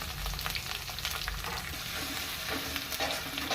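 Chopped garlic, ginger and green chili fry in hot oil for veg manchurian, a continuous crackling sizzle with soft stirring scrapes, moderately quiet and steady throughout.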